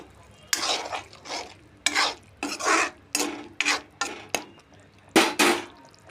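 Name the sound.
stirring garam masala paste in paneer curry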